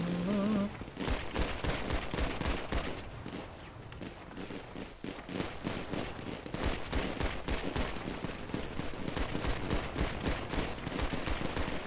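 Dense gunfire in a roleplay video game, rapid overlapping shots and bursts firing continuously, loud and close throughout with no pauses.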